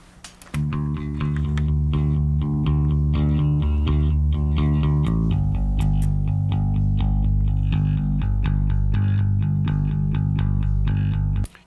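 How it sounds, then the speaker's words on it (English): Bass guitar played through a DI and a gritty, distorted bass amplifier blended together, sounding as a steady, loud run of low notes with a thick, dirty tone and no talking. "the tonality of the bass changing as I add in the DI and then I add in the bass amplifier."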